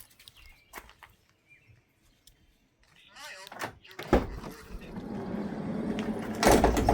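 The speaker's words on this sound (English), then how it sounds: "I'm going to open the door." The sliding side door of a Travato camper van rolls open with a rising, scraping rumble that builds to a louder thud near the end, after a few quiet knocks and rustles.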